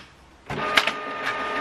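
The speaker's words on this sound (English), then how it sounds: "so we send it to the printer to print" A home office printer starts up and runs as it prints a letter, a short whirring mechanical feed with a couple of clicks, close and steady.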